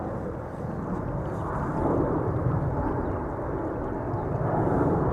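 A Singapore Airlines Airbus A350-900 takes off from Schiphol's Polderbaan runway, a steady distant jet roar that rumbles low and swells slightly as it continues alone.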